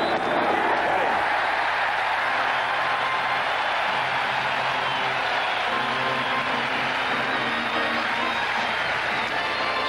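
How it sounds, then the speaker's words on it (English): A packed stadium crowd roaring after a strikeout during the 1981 World Series between the Dodgers and Yankees, a loud, sustained wash of cheering and applause that continues evenly throughout. "the crowd roars as Ron Guidry comes up with a strikeout of Steve Garvey"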